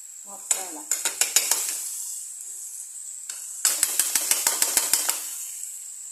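Masala stirred into a pot of mathi (sardine) fish curry, a metal spoon clinking and scraping against the pot in two quick bursts of rapid strikes over a steady background hiss.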